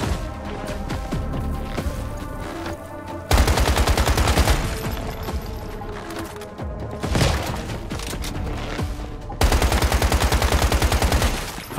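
AK rifle fire in the video game Once Human, several long fully automatic bursts of loud, rapid, tightly spaced shots separated by short pauses, close and dominant with no speech.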